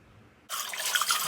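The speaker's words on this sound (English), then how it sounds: "And rinsing it out, I honestly have to say, was the easiest juicer I've ever had to rinse out." Tap water gushes to rinse out an AMZCHEF slow juicer, starting suddenly after a near-silent moment and running steadily as a close, fairly loud splashing stream.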